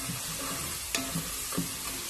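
Ground spices, turmeric and garam masala, are stirred in a sizzling pan for chana dal. Steady frying hiss carries a few soft scrapes and taps of the spoon, close by, with no voices.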